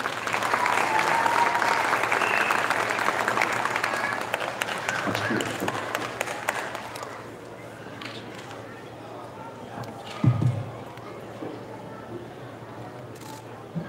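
Loud, dense audience applause fills a launch ceremony hall for a BMX World Cup, sustained for about seven seconds before fading into quieter room noise with a few faint knocks.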